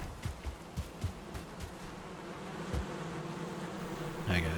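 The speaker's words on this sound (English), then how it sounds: "The bees." Bees buzzing in the video game Valheim near a dock, several quiet drones rising and fading as insects pass close by, a faint hum behind them and a brief louder burst at the very end.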